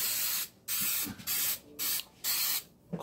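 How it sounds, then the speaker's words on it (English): A can of coconut cooking spray hisses over muffin tins in a home kitchen, five short sharp bursts in a steady rhythm, each about half a second, close and loud with brief silent gaps between. "I'm going to spray these muffin tins with..."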